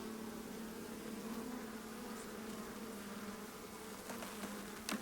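Honey bees hum steadily during a hive inspection, a soft continuous drone that stays even and faint throughout with a couple of small clicks near the end.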